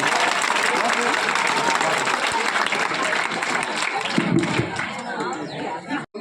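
A group of students claps steadily and loudly for several seconds, the applause thinning toward the end amid some chatter.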